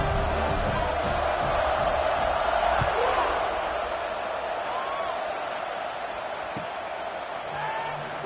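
A football stadium crowd buzzes after a score on an extra point: a dense, steady roar of many voices fills the space, with a commentator talking over it throughout.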